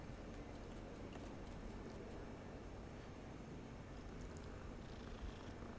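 A cat purring in Hogwarts Legacy, a soft continuous rumbling purr at low volume, steady throughout with no talking.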